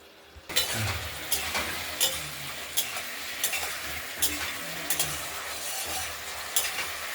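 Spice paste frying and being stirred in a pan for rohu fish curry, a steady sizzle broken by repeated scraping strokes of a spoon, close and moderately quiet with no talk.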